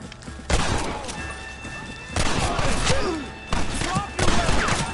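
Gunfire in the video game Red Dead Redemption, with repeated bursts of shots and impacts in several loud clusters, close and dense, mixed with shouting voices.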